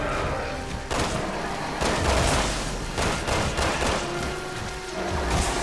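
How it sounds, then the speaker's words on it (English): Rapid bursts of gunfire from Resident Evil 6 come in several loud, rattling volleys separated by brief lulls, with no talking over them. "I'm shooting at the weak spots"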